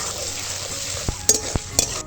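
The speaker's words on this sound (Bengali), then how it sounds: "আলু আর গাজরটা প্রথমে একটু ভাজা ভাজা করে" Potatoes and carrots fry in oil in a pan, giving a steady, even sizzling hiss broken by a few sharp clicks and scrapes as a utensil stirs them.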